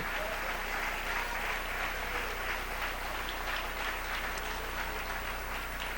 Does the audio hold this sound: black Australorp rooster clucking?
no